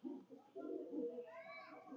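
A golden pigeon from a good bloodline gives a soft, close cooing burble, quiet and short, with faint voices nearby.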